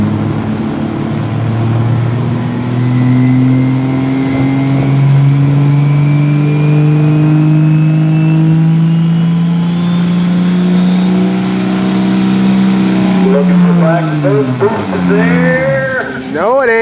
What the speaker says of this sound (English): Full diesel class here, just 2 trucks for this. Both Dodges.